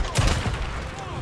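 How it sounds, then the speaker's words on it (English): Shotgun blasts from the video game Days Gone, fired at a zombie bear, the Rager Bear covered in barbed wire, a heavy low boom near the start followed by a fainter second shot amid game noise. "Taste shotgun, zombie bear."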